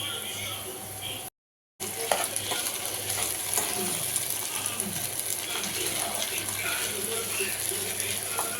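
Continuous crackling sizzle of potatoes frying in hot oil, close and fairly loud, with scattered stirring clicks and a brief dropout near the start.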